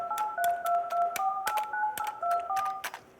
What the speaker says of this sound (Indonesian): Pencet dulu nomornya.